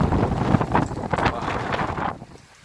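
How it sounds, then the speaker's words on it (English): Strong wind buffets the microphone outdoors at Larnaca Salt Lake during a rainy spell, a continuous rough roar that eases and drops away near the end, with no talking. "it's still windy and raining"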